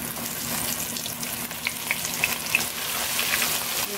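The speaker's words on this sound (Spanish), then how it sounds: "El pescado se sigue friendo." Flour-coated fish fries in hot oil in a pan, giving a steady close sizzle and crackle with a few brief pops, no voices.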